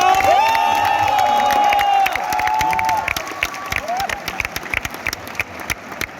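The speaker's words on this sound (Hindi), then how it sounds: "एक बारी जस्ट एक बारी अपने लिए तालियां मार दो" Audience at a comedy night at IIT Kanpur applauds and cheers, with shouts and whoops over clapping early on, the cheering fading as scattered claps continue to the end.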